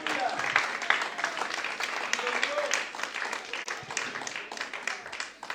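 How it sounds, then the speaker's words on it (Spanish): A church congregation applauds in a sustained, moderately distant wash of clapping that thins toward the end, with faint voices underneath. "Dale un aplauso al Señor"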